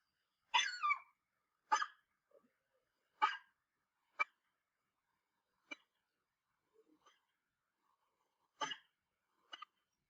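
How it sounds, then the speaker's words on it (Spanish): A small dog yaps in short, sharp, quiet barks, spaced irregularly with silent gaps between them, heard alone. "Era un perrito muy chiquitito."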